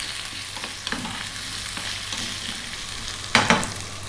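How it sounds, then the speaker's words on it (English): Potatoes fry in a pan with a constant close sizzle, punctuated by soft stirring knocks and a louder pair of scrapes toward the end. "We're going to fry these around for 3 to 4 minutes."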